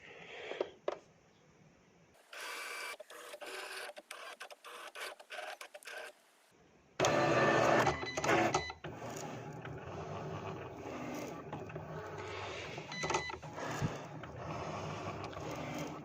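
A Cricut Explore 3 cutting machine cuts trading cards, making a steady mechanical whir and hum. Its carriage moves in short clicking bursts, and louder motor stretches follow. The sound is close and continuous throughout, with no speech.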